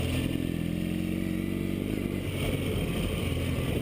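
Dual-sport and adventure motorcycles, including a Suzuki DR650, a Ural with sidecar and a BMW HP2 Enduro, riding a dirt road: a steady, loud engine drone with gravelly rumble, continuous and close, with no talking.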